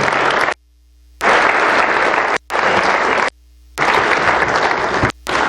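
Conference audience applauding as a keynote speaker takes the stage, loud dense clapping in bursts separated by abrupt silent gaps.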